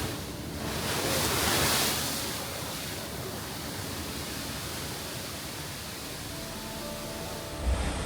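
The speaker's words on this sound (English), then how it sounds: "Waves rush into the well and shoot up in dramatic sprays before receding back into the hole" Ocean waves surge into a rock sinkhole on the Oregon coast, a broad, continuous rushing roar with a swell in the first seconds, then steady churning spray and wash.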